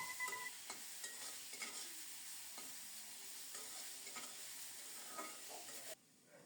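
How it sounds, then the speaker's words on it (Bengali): Cabbage frying with chopped onion, a low steady sizzle broken by soft rhythmic scrapes of stirring in the pan, quiet and close, with the sound dropping away abruptly near the end. "এদিকে বাঁধাকপি ভাজা হয়ে আসলে কুচানো পেঁয়াজ দিয়ে"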